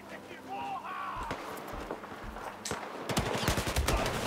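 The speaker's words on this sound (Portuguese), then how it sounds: "Começou a atirar." Battlefield 4 gunfire on PS4 in online multiplayer: bursts of automatic rifle fire and sharp shots, rising into rapid, dense firing toward the end, with faint footsteps and voices talking over it.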